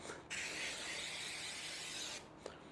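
A steady hiss of spray adhesive lasting about two seconds, sprayed onto foam close to the mic, followed by a short click.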